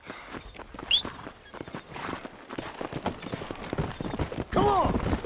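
Horse hooves clip-clop steadily on a trail in the Western game Red Dead Redemption, riding under ongoing dialogue, with a short whinny near the end.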